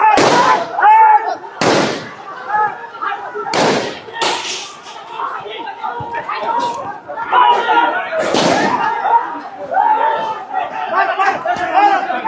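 Gunfire during a riot, several sharp loud cracks spread irregularly across the clip over a noisy crowd with shouting and chatter.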